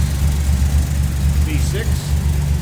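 A 1971 Jeep CJ-5 with a Buick-built Dauntless V6 and two-barrel carburetor idles steadily nearby, a low, even rumble with a constant throb that runs through the whole moment without change.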